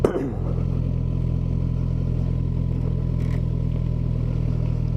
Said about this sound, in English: This thing just idles along without any help.